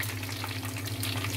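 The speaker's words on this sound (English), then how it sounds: "People, I finished frying." Mussels frying in a pan give off a steady, dense sizzle with a low constant hum beneath, continuous and close throughout.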